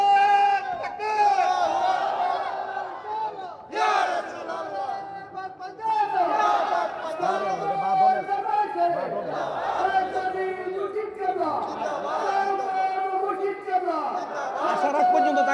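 Crowd at a religious zikr gathering raising a takbir together, many voices calling out loudly in repeated surging waves, dense and sustained, with speech mixed in throughout.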